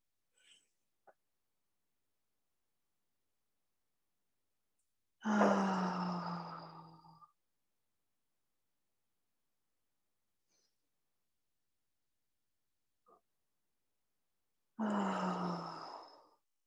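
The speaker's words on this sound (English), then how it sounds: "Take a deep breath in. Exhale through the mouth." Two long, deep exhales through the mouth, several seconds apart, each following a quiet pause, close and soft, with a few faint small sounds in between during a guided breathing exercise.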